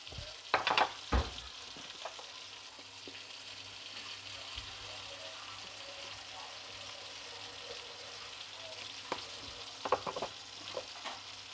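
Catla fish frying in a pan makes a faint, even sizzle, broken by a couple of brief clatters of stirring near the start and again toward the end.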